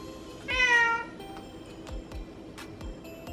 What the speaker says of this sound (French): Tu dis miaou aux abonnés?